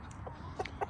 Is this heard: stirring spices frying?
no